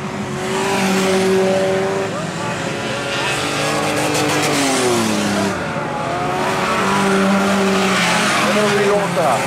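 Autocross race cars roar around a dirt track during a restarted heat, engines revving and rising in pitch as they accelerate and squeal through the corners. A commentator speaks over the continuous loud engine noise.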